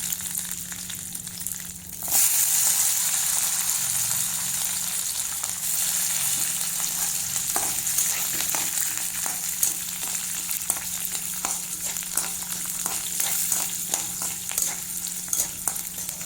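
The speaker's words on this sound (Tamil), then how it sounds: "ஒரு நிமிஷம் 2 நிமிஷம் நல்லா எண்ணெயிலே நல்லா வதக்கிக்கோங்க." Garlic, ginger and chillies sautéing in oil for a guava chutney: a loud, hissing sizzle bursts in after a quiet start and holds steady, with scattered clicks of a spoon stirring the pan.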